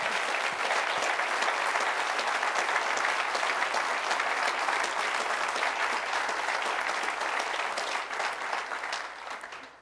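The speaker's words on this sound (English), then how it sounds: "So let's give them all a round of applause." Audience applause at a city government State of the City address in Covington, Kentucky: a dense, sustained roar of many hands clapping together, steady and full for most of its length before tapering off at the close.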